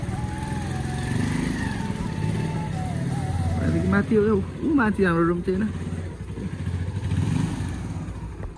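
Motorbike idling and revving as it is moved into a parking spot inside a shutter, a steady engine chug with a couple of brief throttle blips midway, while people talk over it.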